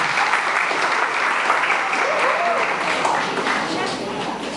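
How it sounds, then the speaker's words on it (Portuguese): Audience at a university cultural event in Brazil applauds steadily and fairly loudly for several seconds as a guest comes up to join the panel, with faint voices mixed into the dense clapping. "uma salva de palmas novamente."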